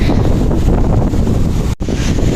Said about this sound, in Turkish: Çok kuvvetli bir rüzgar esiyor burada.